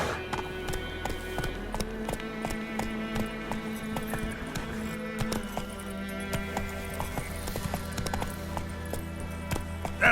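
Hooves of Roach, a horse in The Witcher 3, clip-clopping at a galloping pace in a quick steady rhythm, loud and close throughout, with faint game music underneath.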